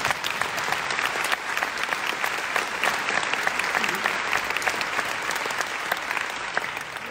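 Dense, sustained applause fills the hall at a New Year's concert, the audience clapping steadily and loudly for about seven seconds with no break.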